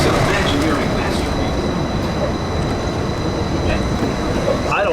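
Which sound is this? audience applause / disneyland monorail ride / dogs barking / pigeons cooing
disneyland monorail ride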